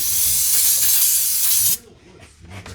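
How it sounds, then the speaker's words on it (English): Brake cleaner sprays from an aerosol can in one long, loud, close hiss lasting under two seconds during a Dodge Ram water pump replacement, then cuts off into quiet handling noises. "I can hit it with a little brake cleaner because I feel like it."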